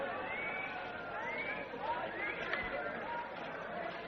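Crowd bustle in ancient Troy from Doctor Who, a steady murmur of many overlapping voices and chatter filling the scene at a constant level, with a few brief louder exclamations rising out of the hubbub.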